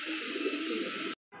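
Pigeons coo at a pigeon market, a soft low rolling coo up close for about a second, then a brief silence before another sound begins.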